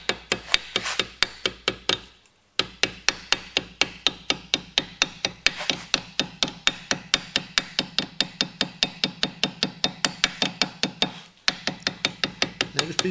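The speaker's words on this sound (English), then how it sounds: "So this time I'm hammering it around to a right angle." Rapid, steady hammer blows ring on brass sheet being bent to a right angle, dozens of close, sharp strikes in an even rhythm, pausing briefly twice before resuming.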